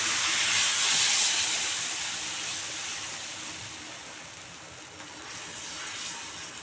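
Godhumai rava dosa batter poured onto a hot pan gives a steady, bright sizzling hiss that starts loud and slowly fades over several seconds, with no voices over it.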